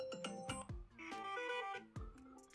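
A new iOS 17 ringtone plays on an iPhone: bright plucked, bell-like notes in a quick melodic pattern with sustained chords, clear and alone.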